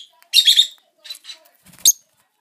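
A pet bird chirps during step-up training, giving short high tweets and squawks in a few quick bursts close by, with quiet pauses between.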